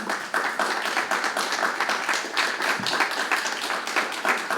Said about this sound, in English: Round of applause for those folks.